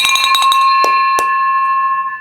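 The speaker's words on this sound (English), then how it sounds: "this is the victory bell, baby." A victory bell is struck several times in quick succession, then rings on with a long, bright, sustained decay that slowly fades; no one talks over it.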